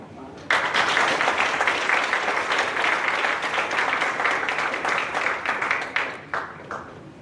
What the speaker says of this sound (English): you guys can give him a round of applause